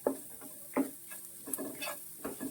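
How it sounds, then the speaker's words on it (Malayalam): A spatula stirs masala with fennel powder and garam masala in a pan for prawn roast, making soft scraping strokes at a slow rhythm over a faint, quiet sizzle. "അതിൻ്റെ ഈ പച്ചപ്പ് ഒന്ന് മാറുന്നതും വരെ ഒന്ന് വഴറ്റിയെടുക്കാം"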